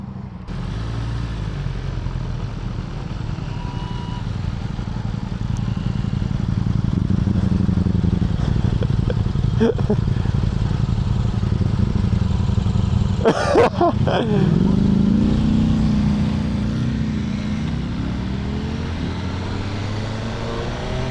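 A motorcycle engine runs continuously, its drone rising and holding in pitch as it revs, with a couple of brief clattering knocks partway through, close and loud, no talk.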